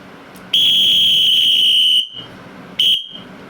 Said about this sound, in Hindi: कालांश बदल करने के लिए क्या सीटी बजेगी